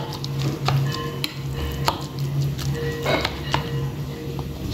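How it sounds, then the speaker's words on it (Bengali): Spices being stirred into chicken mince for momo filling, a close wet squelching and mixing texture with light scraping taps and a faint steady hum underneath, no talk. "এখন এই কিমার সাথে সবগুলো মিক্স করব।"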